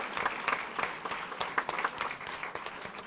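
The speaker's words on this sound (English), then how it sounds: "Please applaud them." Audience applause at a school district governing board meeting, a crowd clapping in a crisp, fairly quiet patter of separate hand claps that carries on steadily and then tapers off slightly.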